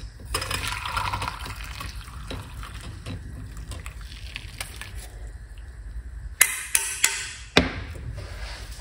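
A homemade honey drink is poured out, a soft trickling liquid sound followed by a few sharp clinks and knocks near the end, close and without talk.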